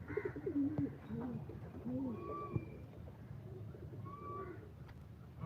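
Soft, low pigeon coos repeat in rounded phrases nearby, with a few faint higher calls in a quiet background.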